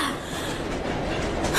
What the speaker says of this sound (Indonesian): menurutku kereta ini cukup nyaman